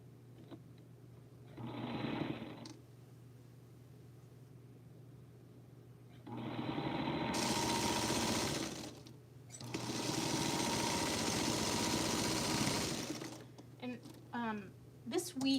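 Sewing machine stitching a cornerstone onto a quilt block, with two long steady mechanical runs of rapid needle hum and a short earlier burst, near and clear, plus brief talking at the end.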